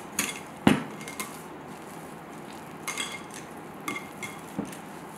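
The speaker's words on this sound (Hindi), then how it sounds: "अब हम इसमें डालेंगे 1 चम्मच तेल और इसको अच्छे से मिक्स करके" A spoon mixing bhatura batter with a spoonful of oil in a bowl, giving scattered light clinks and scrapes at irregular intervals, close and fairly soft.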